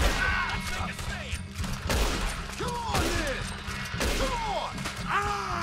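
Gunfire in the video game Red Dead Redemption 2, several sharp shots and thuds with ringing ricochet-like tails, loud and close, while a voice talks at times.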